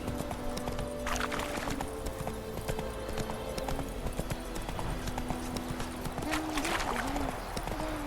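Horse hooves clip-clop steadily at a trot in The Witcher 3 game, a continuous rhythmic patter under low ambient game sound with faint tonal music.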